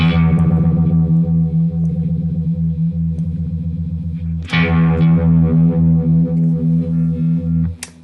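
Electric guitar through a Kmise Vintage Phase pedal set to a throbbing, univibe-like warble, two loud strummed chords ringing out with pulsing modulation and a final cut-off, no speech.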